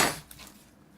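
A knife cuts an onion in half with one crisp, close strike against the board, followed by a brief fading ring and then quiet.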